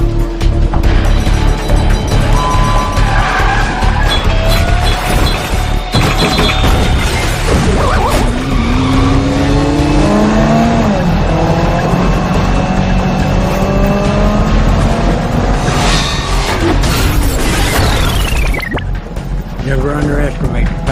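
Frantic action-movie car chase: racing engines and squealing, skidding tires sweep up and down, loud and continuous under tense music and effects, with clipped dialogue breaking through between the screeches.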